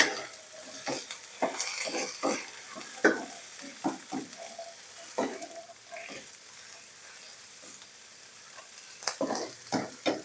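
Onion flowers stir-fried with egg in a pan, with a soft frying sizzle under repeated scraping and clinking strokes of a spatula stirring at an irregular rhythm, close and moderately loud, with no talking.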